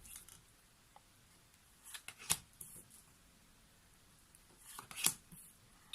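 Tarot cards being shuffled and drawn for a daily reading, heard as quiet brushing and sliding with two sharper snapping riffles, close by and otherwise near silent.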